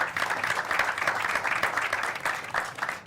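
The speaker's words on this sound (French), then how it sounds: "Et on applaudit encore pour tous les autres réalisateurs" A cinema debate audience gives a steady round of applause for the listed directors, many hands clapping densely and evenly at moderate volume, without speech.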